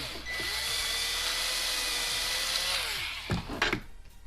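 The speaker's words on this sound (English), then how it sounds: "To do the inside, inside I just have a regular countersink bit just to deburr it." A regular countersink bit spins up and whines steadily for about three seconds as it deburrs the inside edge of a hole in a shock-mounting part, then winds down, followed by a few sharp clanks and knocks of handling.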